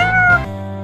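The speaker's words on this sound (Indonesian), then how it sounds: "Meong panjang menunjukkan bahwa kucingmu sangat senang melihatmu." A single long, loud cat meow, close up, with a falling tone that trails off at the end.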